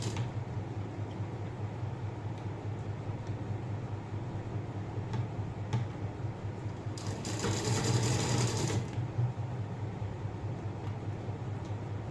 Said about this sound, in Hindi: अब गले के ऊपर सिलाई लगा देते हैं